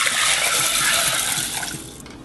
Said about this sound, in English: Measure 3 cups of water and pour this into the pot.